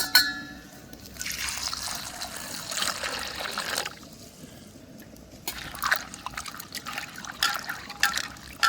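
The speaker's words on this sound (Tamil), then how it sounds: "நான் எடுத்து வச்சுக்கிற வெங்காயம் பச்சை எல்லாம் கழுவி எடுக்க போகிறேன்" Onions and green chillies being washed in a bowl of water for samosa filling, with close sloshing, trickling and dribbling that comes in two longer stretches with a quieter gap between them, and no talking.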